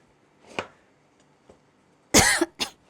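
A faint cough, then a pause and two loud, harsh coughs close together, near and clear with no talking.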